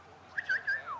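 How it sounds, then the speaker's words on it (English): Short, shrill whistles from the crowd in a football video game, three quick rising and falling notes, fairly faint, with no talk over them. "why are they whistling here? Go away with your whistle."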